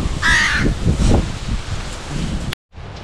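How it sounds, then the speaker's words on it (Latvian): A crow at an Egyptian resort in Hurghada caws loudly and close in one harsh call, over rustling leaves and wind, before the sound cuts out briefly. "Kāda izskatīga vārna."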